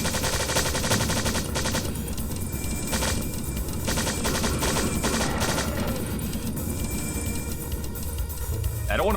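Gunfire in the video game Strife, loud rapid bursts of automatic-sounding shots repeating steadily across the whole stretch, with a player talking over the action.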